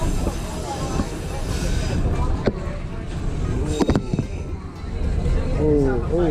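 The White Pass train climbs from Skagway, Alaska, toward the summit with a continuous low rumble and rattling, heard from on board, with occasional sharp clanks and people talking over it.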